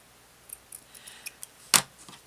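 Scissors snipping a piece of ribbon for a quilt-style card, a few light clicks followed by one sharper, louder cut, close by and quiet with no talking.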